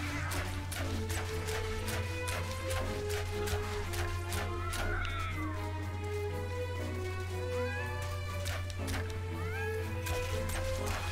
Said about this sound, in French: Il y a des chats.